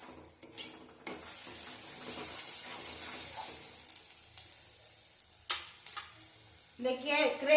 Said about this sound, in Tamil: இந்த மிளகாய் தூள் சேர்த்துருக்கனால கொஞ்சம் இப்படி வதக்கி விட்டுடலாம்.